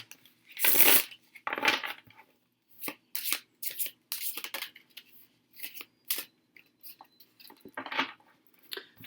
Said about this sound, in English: So we'll shuffle him back in